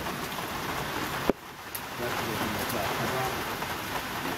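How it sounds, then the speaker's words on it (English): Cold rain falls steadily at Muskrat Creek shelter, a dense, even patter on surfaces close by, broken by a single sharp knock near the start. "Listen to the rain."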